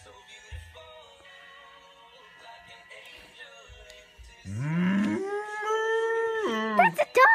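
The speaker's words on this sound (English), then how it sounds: "That's a dog." A Beanie Boo plush toy plays a recorded dog sound, a rising, sustained electronic howl that wavers and grows louder toward the end, with quieter sounds and voices before it.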